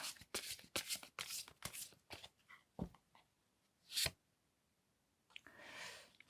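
Tarot cards are shuffled in quick, crisp riffling bursts, close and quiet. A pause follows, then a sharp single snap and a softer slide as a card is drawn.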